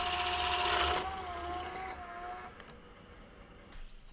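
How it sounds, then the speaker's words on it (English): A new drill press bores a peg hole through wood for a puzzle box, giving a steady high motor whine with a cutting tone that shifts, then winds down into quieter running, close by with no talking. "drilling this hole for the peg"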